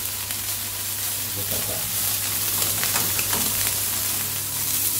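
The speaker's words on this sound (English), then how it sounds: "we will start searing our steak, 30 seconds each side" A steak sears in a very hot pan with smoke rising, giving a loud, continuous sizzle and crackle that runs the whole time, while a person briefly speaks over it.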